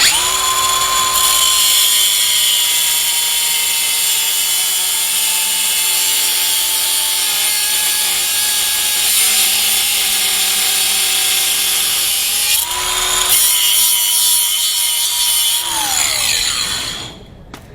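A small 4-inch angle grinder disc whines at a high pitch, cutting steadily through metal for a long stretch, close and loud, with a brief pitch shift before winding down.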